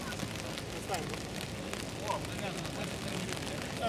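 Steady rain hisses across an outdoor football pitch during a match, a dense, even wash of noise with faint distant shouts and ball sounds underneath.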